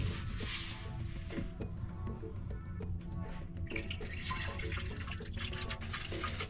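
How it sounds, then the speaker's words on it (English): Water sprayed from a spray bottle's sprayer while its reservoir is rinsed out, a steady close hiss of spray and splashing water running continuously with no talk. "Then I take some water and rinse out the reservoir and sprayer thoroughly, letting it spray water for about 10 seconds or so."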